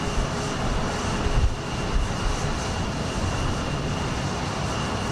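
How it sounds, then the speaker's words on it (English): A United Boeing 737-900 bound for Phoenix makes a steady, broadband jet roar at Houston Intercontinental airport, heard from a distance as a continuous rushing drone with no talk. "United Flight 2162, it's a 737-900, and it's going to Phoenix"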